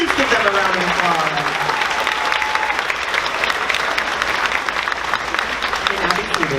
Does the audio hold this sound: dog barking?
no